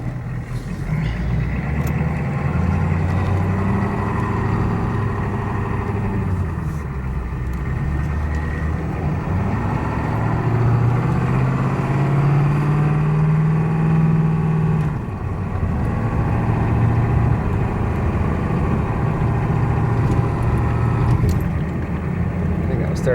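A 1991 Ford F250 truck engine drones steadily while driving, its pitch rising and falling as it shifts through gears, with someone talking over it throughout.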